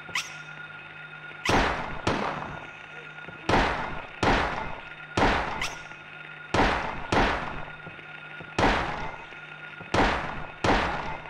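Gunshots from Silent Hill ring out as sharp, loud single blasts, about eight of them spaced roughly a second apart, each trailing off into a brief echoing decay.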